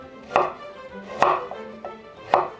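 A knife slices fresh ginger on a cutting board for nabak water kimchi: three crisp, separate chops about a second apart, close and fairly loud, with softer knocks between them.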